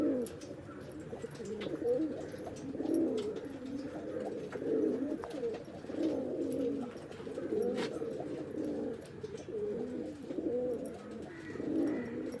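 Several domestic pigeons kept for sale coo softly and continuously at close range, their low, rolling calls overlapping without pause.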